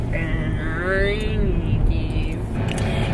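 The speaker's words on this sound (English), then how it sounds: "We've got a loud truck in front of us." A loud truck just ahead in traffic keeps up a steady low engine rumble, heard from a nearby vehicle while people talk over it.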